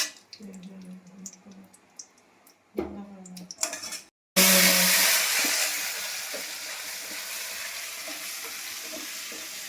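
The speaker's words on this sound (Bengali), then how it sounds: "একটু মেথি পাতা দিয়ে দেবো। মেথি পাতা ফোড়ন দিলে কি হয়, গন্ধটা ভীষণ ভালো হয়।" Fenugreek leaves, ginger, cumin and turmeric fry in hot oil, starting with scattered clinks and stirring, then breaking into a loud, steady broadband sizzle that slowly settles but keeps hissing.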